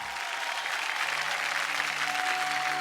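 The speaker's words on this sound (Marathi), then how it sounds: "तुमच्याकडून जोरदार टाळ्या होऊन जाऊ दे, जोरदार टाळ्या." A studio audience on a Marathi TV show claps in a sustained, even burst of applause that holds steady throughout, moderately loud and without talk.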